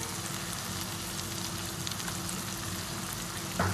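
Chicken pieces with masala frying in a pan, an even, close, hissing sizzle that holds steady throughout with a faint knock near the end.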